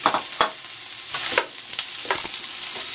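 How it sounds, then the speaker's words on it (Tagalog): Eggplant cubes frying in cooking oil in a pan, a continuous bright crackling sizzle with intermittent scraping and stirring clatter, close and without speech. "Maglalagay ako ng cooking oil. And ipiprito ko muna itong talong."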